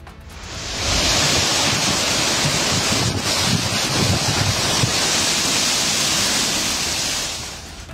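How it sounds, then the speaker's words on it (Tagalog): Loud, constant roaring wash of heavy rain and strong gusting wind from Super Typhoon Nando on Camiguin Island, Cagayan, rising in after a moment and holding steady before easing at the end. "rinig na rinig ang lakas ng ulan at hangin na nararanasan sa isla"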